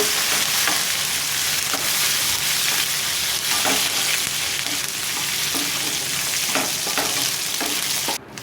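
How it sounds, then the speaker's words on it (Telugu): Curry leaves crackling in hot oil for lemon pulihora while a ladle stirs them, a loud continuous sizzle with repeated scraping strokes against the pan, heard up close without voices. "కరివేపాకు కూడా వేసుకొని ఇలా గంటతో తిప్పుకుంటూ ఫ్రై చేసుకోవాలి"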